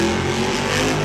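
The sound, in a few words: El Toro Loco monster truck engine revving at Monster Jam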